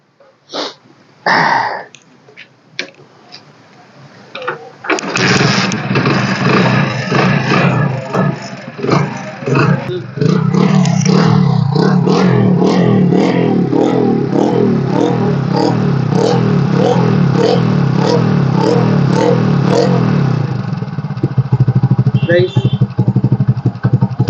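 A Bajaj Platina 100cc motorcycle is kicked and cranked a few times, then its engine catches and runs loudly close by with repeated revs before settling. Voices can be heard briefly near the start.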